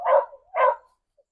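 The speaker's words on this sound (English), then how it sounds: "Neighbor's dogs." Neighbor's dog gives two sharp barks in quick succession at moderate distance, followed by quiet, with no talk over them.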